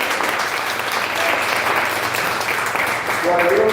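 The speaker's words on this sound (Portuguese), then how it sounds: "Dê uma forte salva de palmas ao Senhor Jesus." A church congregation gives a strong round of applause in worship, dense continuous clapping filling the room with a few voices mixed in toward the end.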